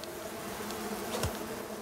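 Bees in the survival video game Icarus buzzing steadily and close, a dense insect drone with a brief swoop passing near the middle.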